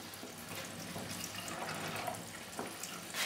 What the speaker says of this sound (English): Gonna add a bit of water